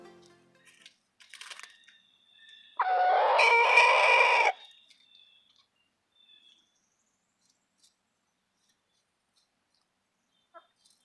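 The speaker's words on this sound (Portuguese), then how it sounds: "esses sons de alarmes que as galinhas fazem" A chicken lets out one loud, sustained alarm-like squawk lasting under two seconds, preceded by a few faint clucks and followed by near silence.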